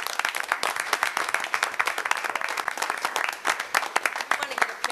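An audience at a school board meeting giving a round of applause, brisk sustained clapping from a modest crowd with a voice talking over it.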